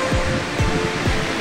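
Sea waves wash in at Mabini, Batangas, a steady broadband rush with a few soft surges, close and fairly loud, no voices.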